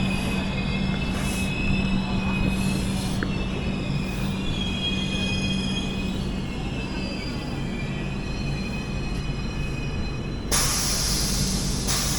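The Mangalore-Kacheguda Express grinds to a stop, its wheels squealing in long high metallic whines over the rumble of the carriages, with a loud hissing burst near the end.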